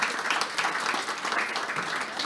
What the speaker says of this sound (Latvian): Aplausus šiem lieliskiem cilvēkiem.